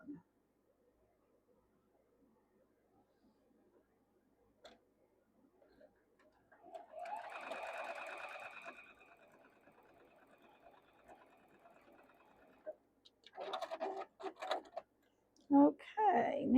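A sewing machine stitches quilt block pieces, running steadily for several seconds at close, moderate volume after a quiet stretch, followed by handling clatter and brief talk.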